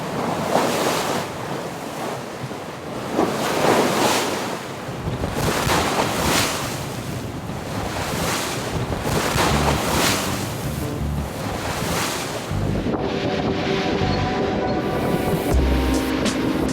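Strong gusting wind and crashing sea waves aboard a sailboat, with heavy rushing surf and buffeting wind noise rising and falling in loud swells throughout.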